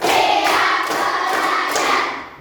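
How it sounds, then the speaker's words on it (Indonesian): Children clap their hands together in a loud, brisk burst of overlapping claps that fades out near the end, with no talking. "Tepuk satu, tepuk dua, tepuk tiga, tepuk empat, tepuk lima"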